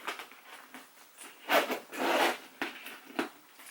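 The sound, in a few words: zipper on Louis Vuitton Palm Springs backpack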